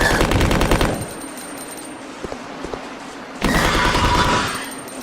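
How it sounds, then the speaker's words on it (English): Submachine gun fire in Resident Evil Code Veronica X comes in two loud rapid bursts, one at the start and one after a quieter pause broken by a few faint thuds. "We're going to equip the submachine gun one more time, as there is one more hunter in this room. And we're just gonna blast it."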